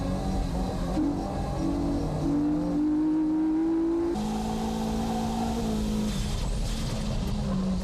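A Nissan S15 race car at Fuji Speedway accelerates hard, its engine note holding a loud, sustained rising drone that shifts pitch at gear changes, steady and close throughout with no voices.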